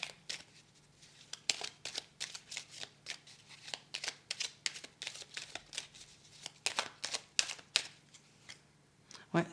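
Tarot cards handled, shuffled and drawn close up for a horoscope reading, giving a steady series of crisp flicking and slapping card sounds in quick bursts. A voice speaks faintly between the bursts.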